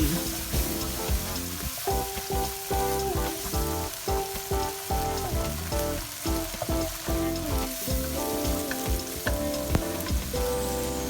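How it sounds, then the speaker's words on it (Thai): Pork stir-fried with coconut sugar and oyster sauce crackles in a continuous loud sizzle, broken by irregular tossing and stirring pulses, with faint sustained tones in the background. "หลังจากนั้นก็ใส่ น้ำมันหอย 1 ช้อนโต๊ะ แล้วก็ผัดคลุกเข้าให้เข้ากันเลย"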